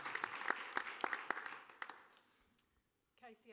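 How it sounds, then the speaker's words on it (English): A small audience at a school board meeting gives a short round of sparse clapping that thins out and fades to near silence, followed by a voice beginning to speak. "So y'all give them a round of applause."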